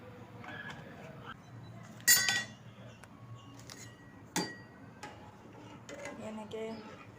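A spoon clinks against a pot while stirring milk over heat, a few distinct metallic taps spaced irregularly among quieter kitchen clatter, with someone talking in the background.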